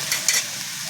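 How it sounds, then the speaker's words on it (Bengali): Onion frying lightly in a little oil, a short burst of sizzling with two brief scraping stirs near the start, close and fairly loud, then a steady low hiss. "হালকা করে ভেজে নেব"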